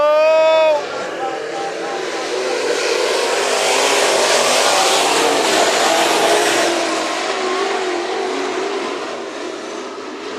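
IMCA Modified race cars roar past in a heat race at Bakersfield Speedway, a loud sustained engine drone swelling and fading as the pack passes, with an announcer talking over it.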